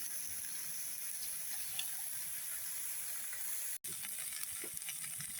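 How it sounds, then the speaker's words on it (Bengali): Vegetables and leafy greens sautéing in a pan give a steady close sizzle and hiss throughout, with a brief dropout near the end before the frying resumes. "সবজিটা ভালোভাবে কষিয়ে নেওয়া হয়ে গেছে"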